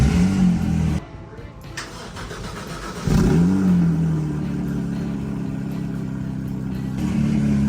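A wrecked Porsche GT3's engine cranks and catches, dips briefly, then bursts into a loud rev before settling into a strong, steady idle that swells again near the end.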